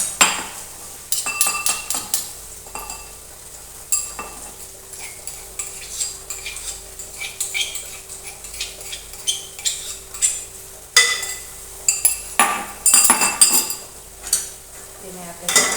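Garlic paste stirred into okra in a pan for bhindi masala: a utensil scrapes and clinks against the pan in repeated strokes over a low sizzle, close and fairly loud.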